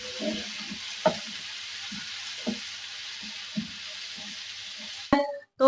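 Chopped onion fries with ginger garlic paste in a pan, a steady bright sizzle broken by soft scraping stir strokes, ending in a sudden louder clatter.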